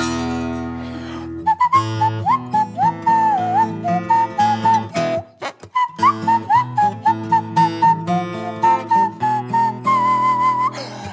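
A storyteller whistles an instrumental verse as a clear, wavering melody with short breaks between phrases, alone and near, with no voices.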